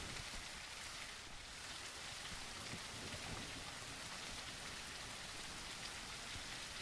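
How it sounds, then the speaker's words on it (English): Steady rainfall in the video game The Isle, a dense continuous hiss of drops filling the whole stretch at even loudness, with no voices over it. "I'm hearing things. It's just the rain."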